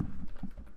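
A few soft keystrokes on a computer keyboard, quiet irregular taps over a brief moment with no voice.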